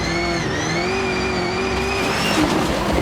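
Rallycross race car engine screaming at high revs, a loud, close, sustained drone whose pitch dips briefly then climbs again, running continuously with no talk.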